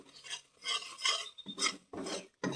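Carrot khoa for gajar halwa being stirred in a pan with sugar, a rasping, scraping spoon in repeated bursts of about half a second, close and fairly quiet, with no voices.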